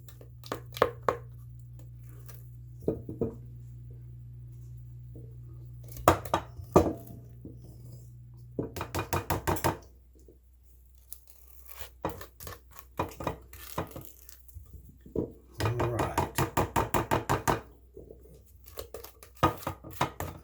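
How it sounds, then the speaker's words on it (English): Brownie batter is scraped from a bowl with a utensil: irregular bursts of scraping and clinking against the bowl, some in quick rapid runs, separated by quiet pauses. "Try to get all that brownie batter out of there."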